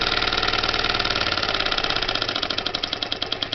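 Delta scroll saw running at its lowest speed, a steady mechanical hum with a fast, even reciprocating pulse, close and moderately loud, alone with no talk.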